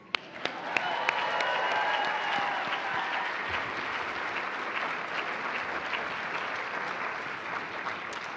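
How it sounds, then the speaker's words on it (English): Loud, sustained applause from a large audience at a NASA astronaut graduation ceremony, steady dense clapping filling the whole stretch with a few sharper claps standing out. "Great round of applause. Fantastic. How about another one while they take their seats?"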